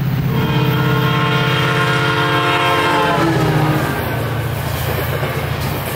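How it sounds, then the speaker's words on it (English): Northbound SunRail commuter train P316 pulling out of Sand Lake station, its horn blaring in a long, loud, steady tone over the rolling rumble of the cars, then fading to a lower rumble as it moves off. "P316 coming north, rumbling out of their Sand Lake station stop"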